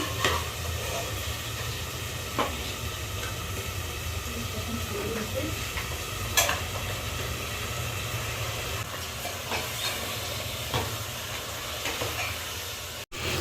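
Goat meat frying in a pan gives a steady, even sizzle and hiss throughout, with a few faint clinks of stirring near the cooking surface.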